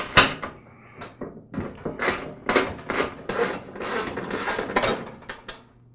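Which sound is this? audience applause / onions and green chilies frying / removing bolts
removing bolts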